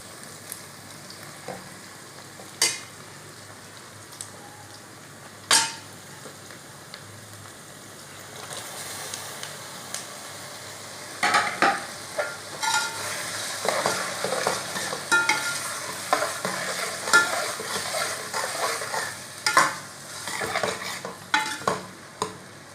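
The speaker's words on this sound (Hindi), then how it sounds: "अब इसमें ना टमाटर डालने हैं।" Tomatoes are added to lightly browned onions for an okra curry, then stirred and fried in the pan: faint sizzling with a few sharp clangs early, then busier scraping and stirring toward the end.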